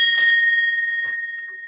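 A single bright bell struck once by the Commodore on a sports talk broadcast, ringing with a clear sustained tone that slowly decays, with faint voice sounds in the background.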